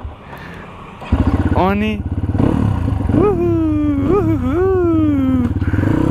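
A motorcycle starts with a brief cough, then its engine idles and revs with rising and falling pitch as it pulls away and rides, loud and close, while someone talks over it.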